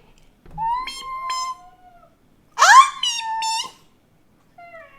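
A person imitates a domestic cat's meow. Two drawn-out, rising-then-falling meow calls are followed by a short, fainter third, each fairly close and clear against silence.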